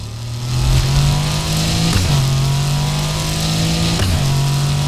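Car engine in the Need for Speed Heat racing game revving loudly and steadily, its pitch climbing and dropping sharply twice as it shifts gears, with a continuous high whine throughout and no voices.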